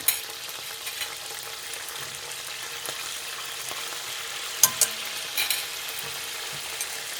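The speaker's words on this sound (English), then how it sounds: "the anchovies will begin to disintegrate as they fry." Anchovies frying in oil in a pan for spaghetti aglio e olio, a steady close sizzle with a few sharp pops and crackles, alone without talk.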